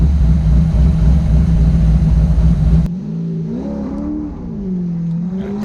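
A BMW engine revs hard and loud up close, then shifts into a lower, rising growl with pitch sweeps as the cars accelerate in a street race, with no talk over it.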